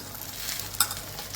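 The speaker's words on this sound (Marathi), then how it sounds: "तेल तापले. तेलामध्ये आपण भेंडी टाकूया." Okra sizzles and crackles as it goes into hot oil in a pan, a steady close frying hiss with one sharp spatter.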